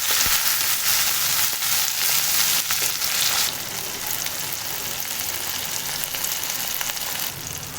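Onion and a small tomato sautéing in a pan for white vegetable kurma, a loud, close, continuous sizzle with occasional stirring scrapes, no voices.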